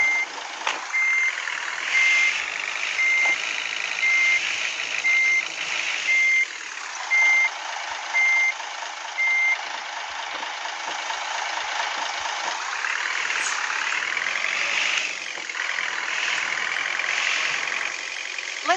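A bus in Bus Simulator Ultimate rumbles with a steady engine drone while evenly spaced reversing beeps repeat through the first half, continuing loud and close throughout.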